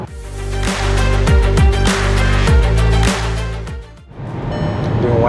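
A Skoda seven-seater SUV launches on a race track, its engine climbing through repeated gear shifts in loud, close rising sweeps before easing off into a quieter, rougher drone.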